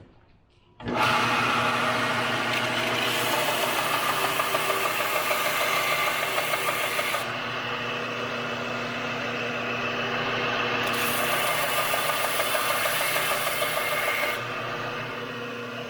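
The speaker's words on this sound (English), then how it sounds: "I'll do that on the belt sander here real quick." A belt sander grinds the bottom of a lathe-turned wooden handle flat, a steady loud abrasive whir and rasp running nearly the whole time with slight shifts in pitch as pressure changes.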